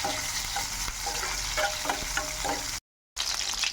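Ridge gourd and dried prawns fry in about three spoons of oil, with a constant loud sizzle and some stirring scrapes. It is close and steady, drops out briefly, and then comes back with no talking.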